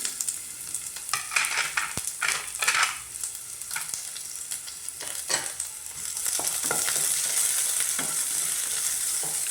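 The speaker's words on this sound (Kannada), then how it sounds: "ಈರುಳ್ಳಿ ಚೆನ್ನಾಗಿ ಫ್ರೈ ಆಗಲಿ." Chopped onion fries in a pan with a steady, close crackling sizzle, broken by clinks and scrapes as it is stirred, and the frying grows louder and denser toward the end.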